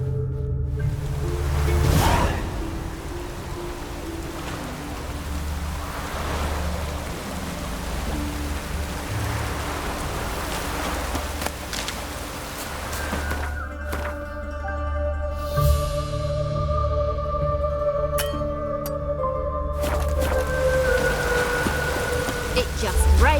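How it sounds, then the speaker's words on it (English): Continuous rain in The Witcher 3, a dense even hiss of falling water throughout, with low rumbling ambience, occasional thuds and a sustained tonal hum in the later part. "It just rains and rains."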